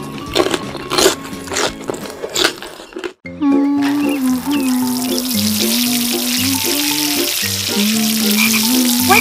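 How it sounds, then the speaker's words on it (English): A frog croaking in a miniature kitchen cooking scene. Clicky crackling like sizzling food comes first, then after a brief gap a loud, steady, rhythmic croaking carries on close by to the end. "Frog."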